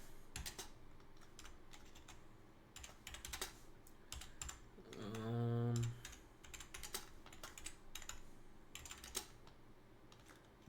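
Rapid, uneven clicking of a computer keyboard being typed on in bursts, close up, with a short loud tonal hum breaking in midway.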